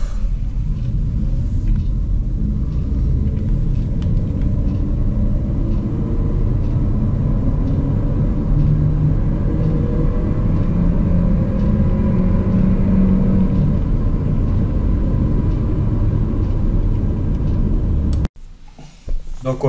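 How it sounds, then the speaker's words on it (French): A Renault Arkana Esprit Alpine with an automatic gearbox accelerates, its engine a loud, steady rumble with rising tones that builds through most of the clip before cutting off abruptly near the end. "On va se voir une petite accélération,"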